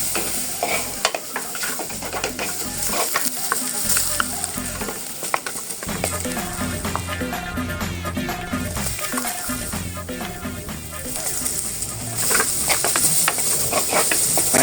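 Ginger and garlic frying in oil for a Sri Lankan meatball curry, a loud continuous sizzle with stirring that carries on steadily throughout.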